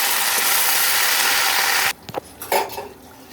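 Drumstick greens go into a hot wok of frying garlic: a loud steady sizzle cuts off abruptly, followed by a few clinks and scrapes of a utensil against the pan.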